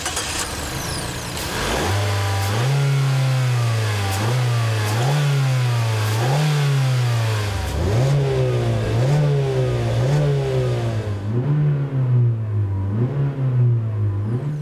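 A 2016 Mazda CX-3's 2-litre four-cylinder engine, rated at 146 horsepower, accelerates hard and alone. It rises in pitch through several gears, with a brief dip at each shift.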